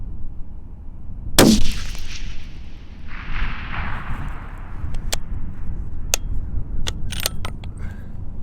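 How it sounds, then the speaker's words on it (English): A single sharp, loud report from a custom .300 WSM rifle fired at a target during load development, followed by a short decaying echo and faint clicks of handling gear. "We're going to go ahead and shoot these three."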